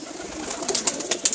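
Pigeons coo softly in a loft, low murmuring calls over a steady background hum, with a few faint bird sounds nearby and no voices.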